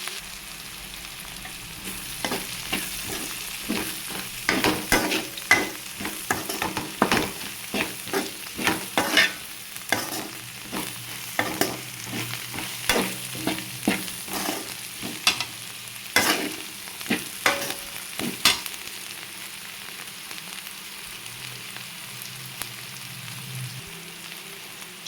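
Broad beans frying in a pan, a low sizzle under frequent rhythmic spatula scrapes and clatters that ease off toward the end.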